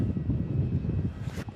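A Jetstar airliner, flight 664, at Melbourne Airport, its engine noise a steady low rumble close by, with a brief hiss swelling and fading near the end.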